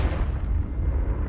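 A low, rumbling blast from a Confringo spell in the Hogwarts Legacy game, a heavy, loud boom that fills the moment and then fades out, with no talk.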